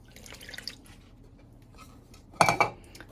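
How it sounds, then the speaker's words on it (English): Half a cup of milk poured into a pot while making no-bake cookies, a short close splashing pour that rises sharply and trails off after faint clinking, with no talk. "We're going to add that half a cup of milk"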